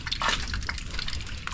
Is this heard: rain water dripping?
yes